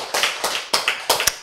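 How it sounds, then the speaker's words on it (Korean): Brief burst of hand clapping from a small lecture audience, about eight quick, sharp claps in uneven rhythm, fairly close and with no talking over it. "박수"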